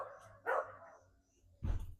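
A dog barks twice on a balcony, sharp moderately close yelps with a pause between them, the second lower and heavier, against otherwise quiet surroundings.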